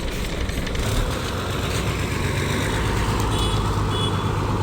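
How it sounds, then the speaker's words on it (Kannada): A BS2 Haveri depot bus idles at Haveri Central Bus Stand in the early morning, its diesel engine a steady, loud rumble throughout with no pauses. "ಗಾಡಿನ ಇನ್ನೂ ರನ್ನಿಂಗಲ್ಲಿದೆ"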